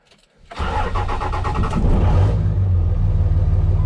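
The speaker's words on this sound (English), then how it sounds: "I'm gonna start the truck." A truck engine cranks briefly, then catches and settles into a loud, steady running rumble close by.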